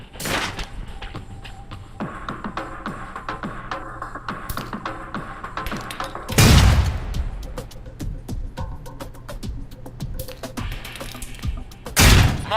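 Explosions in the Alpha Protocol video game, with a gas tank under a truck blown up, heard as two loud booming blasts amid steady gunfire-like tapping and clatter.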